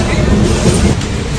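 Sairang Kolkata Express, a 22-coach train on its inaugural run, rumbling along the rails near Azimganj with steady low, loud rolling noise from on board.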